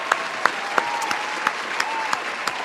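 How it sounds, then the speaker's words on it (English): A small group applauds a first super chat on a 49ers vs Seahawks pregame livestream, with soft scattered claps and a few sharper isolated claps at roughly regular intervals, thin and close rather than a full crowd. "let's give a round of applause"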